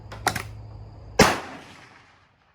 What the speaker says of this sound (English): So right now we can take a live round, close the breech, and we can fire.